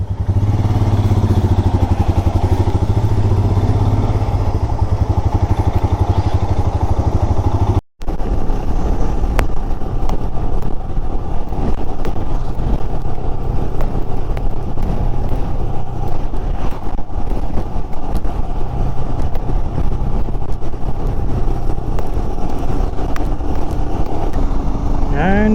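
Royal Enfield Himalayan motorcycle ridden on an open road between Mysore and Wayanad, its engine droning steadily under loud wind rush, with one momentary dropout early on.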